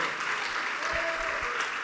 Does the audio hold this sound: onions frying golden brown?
no